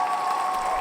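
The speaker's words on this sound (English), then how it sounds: "Feel the love of that fake crowd." Fake crowd applause played as a sound effect, a short even burst of clapping and crowd noise lasting under a second.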